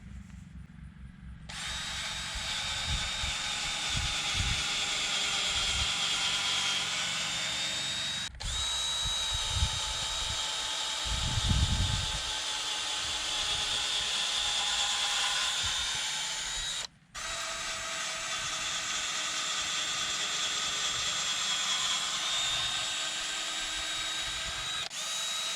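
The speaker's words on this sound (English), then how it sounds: "I'm gonna go ahead and take and pre-drill the holes for the knobs" A power drill whines steadily through three long bursts with brief pauses between them, pre-drilling holes in a gate post, close and loud, with a slight grinding change in pitch midway.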